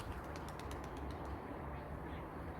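Turtle doves cooing in repeated soft notes over a steady background noise, at an outdoor spot where they keep coming to take scattered grain.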